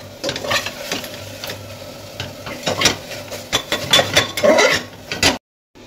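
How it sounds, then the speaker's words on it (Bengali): Ginger, garlic and chili paste sizzles in a pan with minced chicken while a utensil stirs and scrapes in quick, uneven strokes with metallic clinks, then the sound cuts to silence. "তো এগুলো একটু ভাজা ভাজা করে নেবো। আর তারপরে কিন্তু দিয়ে দেবো মাংসটা।"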